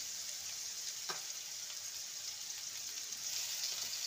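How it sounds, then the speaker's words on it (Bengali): Potatoes frying in a pan with salt and turmeric, a steady soft hiss and sizzle of hot oil running throughout with one brief clink, quiet and with no talking. "আলুটাকে ভালো মতন ভেজে নিতে হবে।"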